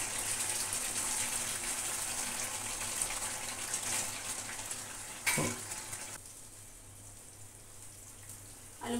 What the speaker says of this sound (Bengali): একটু ঝোল দিই।